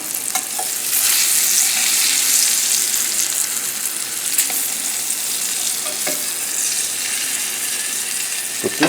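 Salmon sautés in a hot pan with onions, garlic, lime and lemon juice, giving a loud, continuous sizzle with a few sharp spatula clicks and scrapes, heard close up without talk.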